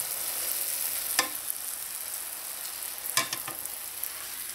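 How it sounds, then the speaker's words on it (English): Bara dough for Trinidadian doubles dropped into hot oil, giving a steady crackling sizzle with a couple of brief louder spatters, close up and alone. "Just gonna drop the first one in the oil."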